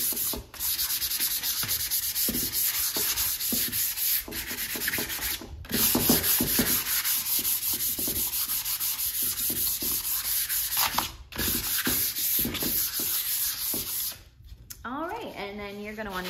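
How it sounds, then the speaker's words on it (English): Stained wooden sled being hand-sanded before stenciling, with close, rhythmic rubbing strokes that run continuously and pause briefly twice, ending with a short voice near the end. "So I'm gonna go ahead and sand over this for about 10 seconds."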